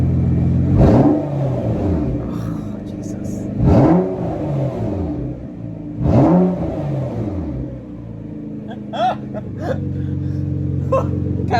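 Car fitted with a Fabworx 4 inch titanium straight pipe exhaust revving hard three times in a row, each loud raspy surge rising and falling, heard close with a rumbling idle between and brief voices near the end.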